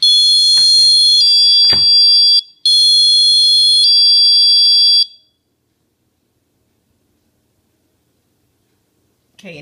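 A cheap door security alarm gives a loud, shrill two-tone electronic tone in two long bursts close by, with a brief thump and a faint voice before it falls silent.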